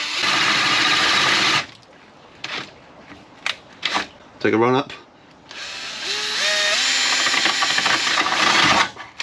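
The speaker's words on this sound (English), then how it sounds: "I'm going to drill one" A power drill bores a hole through a track car's body, whirring in a long loud burst, then pausing for short clatters and speech before a second sustained drilling run.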